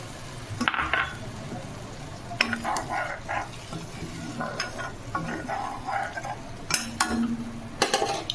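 A spoon stirs spice masala with a splash of water in a pan for a tangra fish curry. Bursts of scraping and clinking come at irregular intervals over a low sizzle, close and fairly quiet.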